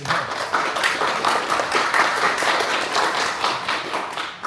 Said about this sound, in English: just applause for the partners